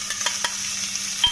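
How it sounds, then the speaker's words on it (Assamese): Pork frying in a pan with roughly crushed ginger and garlic, stirred with a utensil: a steady low sizzle broken by a few soft scraping strokes, close and fairly quiet, with no talk. "আদা নহৰুখিনি দি অলপ আকৌ ভাজিব আনি লৰাই দিছোঁ"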